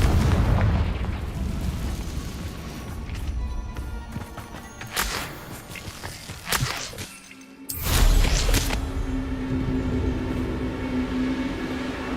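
A Confringo fire spell erupts in Hogwarts Legacy combat, loud whooshing blasts and sharp booming explosions in several bursts over a roaring, rumbling game soundscape.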